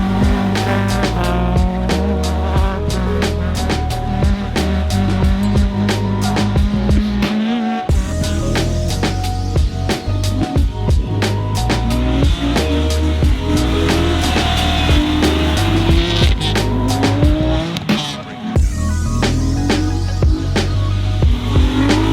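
A car drifting in a field at an Irish car event, engine revving hard and bouncing off the limiter while the tires squeal and scrub continuously, loud and close throughout.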